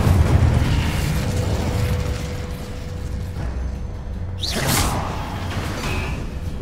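Fire spell cast in the video game Hogwarts Legacy, a dense roaring rumble with a sudden whooshing burst partway through, loud and close over constant game ambience.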